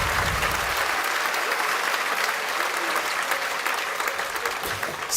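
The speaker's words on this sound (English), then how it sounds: "2012, hold for applause." Graduation audience applauding the class of 2012 at a commencement ceremony, a dense, steady wash of clapping from a large crowd that holds at full strength for about five seconds before easing slightly at the end.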